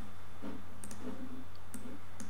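A computer mouse gives a few soft, close clicks, sounding in small pairs and singles over a quiet hum.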